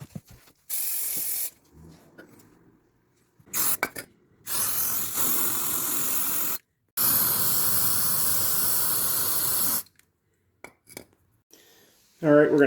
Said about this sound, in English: So we're going to clean those areas off with brake fluid.